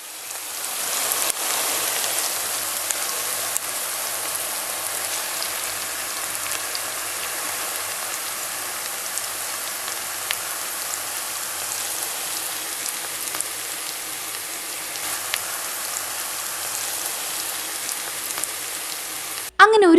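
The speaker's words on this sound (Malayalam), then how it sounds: "അങ്ങനെ ഓയിൽ നന്നായിട്ട് ചൂടായ ശേഷം നമ്മൾ കോട്ട് ചെയ്ത് വെച്ച ഒനിയൻ റിങ് ഓരോന്നോരോന്നായിട്ട് ഞാൻ" Batter-coated onion rings fry in hot sunflower oil, making a continuous dense crackle and sizzle, like steady rain, that holds evenly throughout before a brief clatter at the very end.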